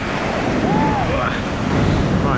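Ocean waves crashing on the shore, a loud, continuous rushing wash with wind buffeting the microphone, surging slightly toward the end, heard up close with no talk.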